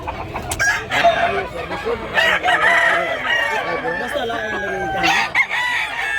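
Roosters crow repeatedly nearby, long rising calls overlapping one another, with hens clucking in between and a voice briefly talking.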